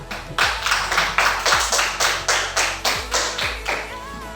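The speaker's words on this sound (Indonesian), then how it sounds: "Tepuk tangan untuk kita semua" Audience at a school teachers' presentation clapping in rhythmic unison, about a dozen sharp, evenly spaced claps close by with no talk over them.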